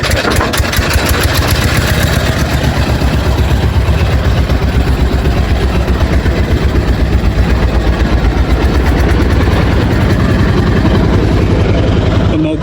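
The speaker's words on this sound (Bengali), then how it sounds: "ইঞ্জিনের শব্দ কিন্তু প্রচুর শুনতে পাচ্ছি" A loud, steady boat engine drones continuously with a deep low rumble and a fine rhythmic chug, running without pause throughout.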